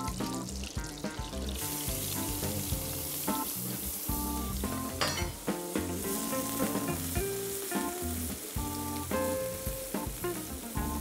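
Chopped onion fries in butter in a pan for Turkish menemen, giving a steady close sizzle with stirring scrapes, partly masked by background music throughout.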